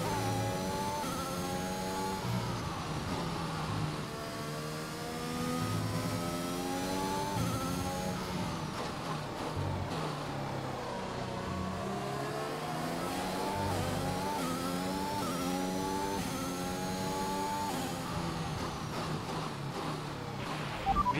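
Racing car engines in the F1 2021 video game, during a race in Bahrain, scream continuously with rising and falling pitch through gear shifts, loud and sustained for the whole stretch, with no talk over them.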